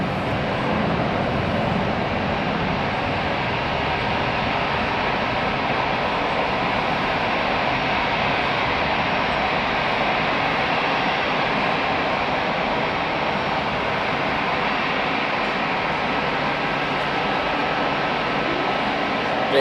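An EasyJet Airbus A319-100 taking off at Hamburg Airport, a loud steady broadband jet roar that holds without letting up for the whole stretch.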